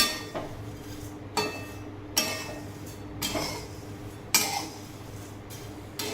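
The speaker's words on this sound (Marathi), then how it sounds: "पोहे आपल्याला कुरकुरीत होईपर्यंत भाजायचे।" Poha roasting in a kadhai until crisp: metal spatula strokes scrape and knock against the pan roughly once a second, close and fairly loud, over a faint dry rustle.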